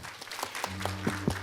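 Clapping from an audience closing an agricultural science symposium, scattered and thin at first, then briefly overlapped by a tonal hum, heard only for a moment.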